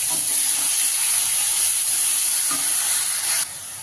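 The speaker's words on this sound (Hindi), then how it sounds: "अब यहीं पे हम जो प्याज, लहसुन, अदरक पीस के रखे थे इसको अच्छे से डाल के भून लेते हैं।" A steady, loud sizzle of ground onion, garlic and ginger paste frying in a hot pan over medium gas, with occasional stirring scrapes; the hiss drops slightly near the end.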